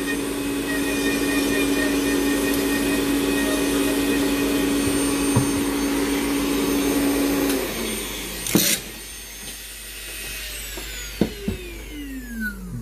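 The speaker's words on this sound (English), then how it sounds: "you might need a dust collector" A dust collector runs with a loud, steady whine and hum while denture teeth are ground, then shuts off and spins down with a falling tone, followed by a few close clicks and knocks.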